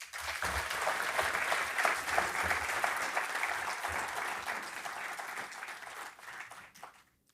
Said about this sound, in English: they deserve a rich round of applause